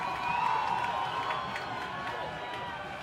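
Home crowd at a women's rugby grand final cheering, a broad roar that swells early and then eases into a sustained murmur, with a commentator talking over it.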